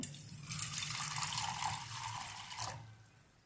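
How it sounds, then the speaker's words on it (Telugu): Water pours steadily into a small metal pot holding a single grain of rice, a close, rushing splash lasting about two and a half seconds before trailing off into quiet. "దాంట్లో నీళ్ళు పోస్తున్నాను."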